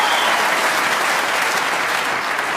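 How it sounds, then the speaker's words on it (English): Snooker crowd at the 2013 World Championship breaking into loud, sustained applause, a dense steady wash of clapping from a large audience with no speech over it. "And listen to the crowd."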